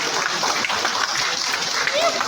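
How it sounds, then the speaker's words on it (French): Audience applause at the official opening ceremony of an academic year, steady dense clapping filling the hall, loud and continuous with voices mixed in. "je vous demande de pouvoir applaudir"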